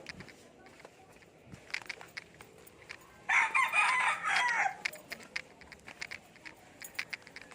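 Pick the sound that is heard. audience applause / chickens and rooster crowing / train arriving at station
chickens and rooster crowing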